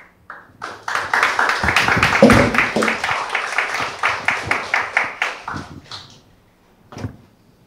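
An audience at a startup award ceremony gives a winning team a burst of applause, a dense patter of many hands clapping that swells, holds, then thins out to a few scattered claps.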